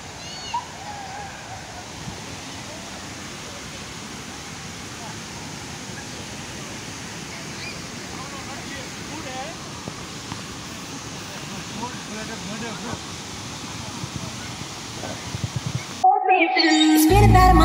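A waterfall's steady broadband rush fills the scene during a drive to Bentong, constant and moderately loud for most of the span before cutting off abruptly near the end into a brief louder burst.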